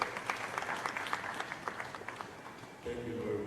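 Audience applause after a minister declares a road safety conference open in Sierra Leone: a steady burst of many hands clapping fills the room, then a voice begins speaking over the tail of the clapping.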